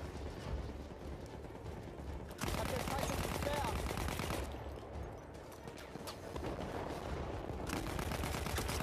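Battlefield 1 video game gunfire in a chaotic battle, sustained bursts of shots and heavy rumbling combat noise that swell and fade across the stretch, with no clear voices.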